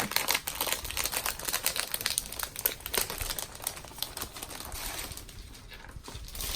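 A plastic sleeve crinkles and crackles as a large chalk transfer is pulled out of it, a close, irregular run of sharp rustling snaps with no voices.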